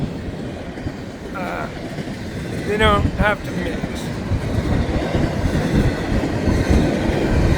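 A freight train, manifest or intermodal, rumbles past on a western main line in Colorado or Wyoming, a steady heavy roll with brief squeals and horn-like tones early on while someone talks over it.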